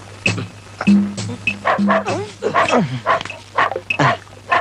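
A voice imitates a dog, producing a series of short yips, barks and whimpers in an uneven rhythm, close and fairly loud.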